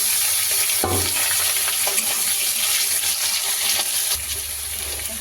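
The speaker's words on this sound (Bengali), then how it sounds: "পেঁয়াজ লাল লাল হয়ে গেছে, ঢেলে দিচ্ছি আলু।" Potatoes tipped into a pan of browned onions frying in oil, a sudden clatter at the start followed by a steady bright sizzle that swells again near the end, close and alone without talk.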